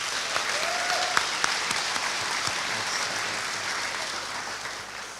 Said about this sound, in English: So can we give them a big round of applause, please?